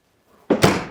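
An Invoq oven range door swung shut after a trolley is rolled in, a single solid thunk with a brief resonant ring, alone after near silence.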